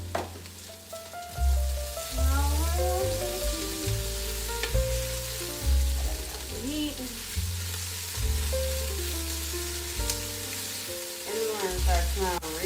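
Pancetta sizzles and fries in a pan for a homemade Bolognese, a steady crackling hiss running throughout beneath loud music with strong bass and a melody.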